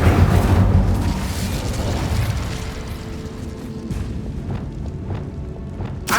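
An Incendio fire spell blast in Hogwarts Legacy opens with a heavy, booming whoosh that tails off into crackling, rumbling flames, with a few softer thuds following.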